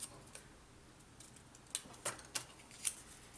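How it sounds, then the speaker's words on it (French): Faint, crisp scissor snips trim the point of a piece of cardboard while making a scrapbooking folio roof, with about five short cuts spaced irregularly in a quiet room and no talking. "Alors, je coupe ma pointe jusqu'à 2 mm de la pointe."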